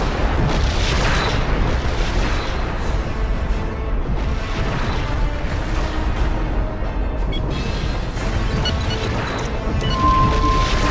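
Klingon ships blow up in the Star Trek Legacy space combat game as a continuous, heavy roar of booming blasts that stays loud and dense without a break.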